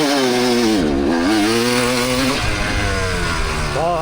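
Kawasaki KX250 two-stroke motorcycle engine bogging in second gear, its loud close buzzing note sagging and recovering repeatedly, pitch dipping and climbing in uneven surges.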